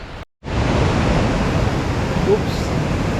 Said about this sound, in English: I can already hear the sound of the waterfalls.